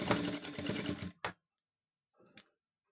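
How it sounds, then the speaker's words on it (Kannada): A sewing machine runs in a steady, rapid, close stitching burst as neck piping is sewn onto fabric, then stops, followed by a couple of faint clicks and handling noises. "ಈ ಥರ ನೀಟಾಗಿ ಹಿಡ್ಕೊಂಡು ಇದ್ರ ಮೇಲೆ ಸ್ಟಿಚ್ ಹಾಕೋಬೇಕು"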